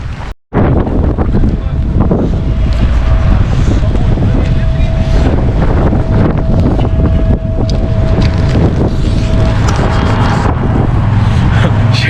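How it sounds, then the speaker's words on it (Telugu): Gusty wind buffets the microphone outdoors in Belgrade, Serbia, in sudden cold, rainy weather, with a steady loud rumble, a wash of rain and passing street noise and a faint intermittent tone. "సడన్లీ క్లైమేట్ మారిపోయింది, విండ్, కోల్డ్ అండ్ వర్షం."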